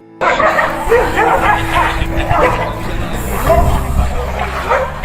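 Rabid stray dogs in a village in Pudukkottai district bark and yip repeatedly, with whimpering and loud nearby yelps, under someone speaking in Tamil and some background noise.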